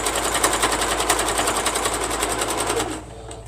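A sewing machine stitches at a fast, steady rhythm of rapid needle clatter up close. Just before the end the stitching stops and only a faint hum remains.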